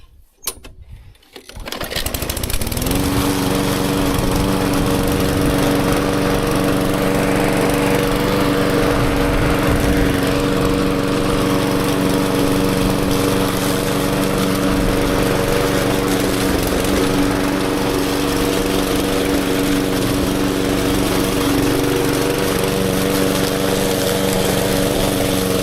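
A small lawn mower runs steadily while mowing a path through a wild-berry patch, its close, continuous engine drone holding level after a brief start, with no talk over it.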